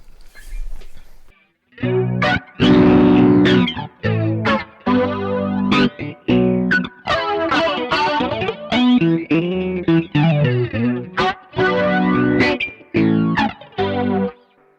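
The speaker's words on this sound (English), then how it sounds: "here's the flanger sound" A flanger effect sweeps over a musical passage, the delayed signal mixed back in so comb filtering gives a swirling, metallic, jet-like shimmer across choppy, loud phrases.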